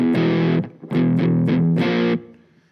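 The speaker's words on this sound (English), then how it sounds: "as we go up in tones, you're going to get more crunch" Crunchy distorted electric guitar through the Nembrini Cali Axis all-tube amp simulation app on iOS, three sustained strummed chords with a short gap between, loud and close, ringing out at the end.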